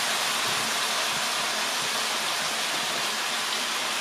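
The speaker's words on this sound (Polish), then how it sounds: "I podlewamy wodą." Boiling water from a kettle poured into a beef sauce in a pan, a steady broadband splashing hiss that runs unbroken and fairly loud for the whole stretch, with no talk.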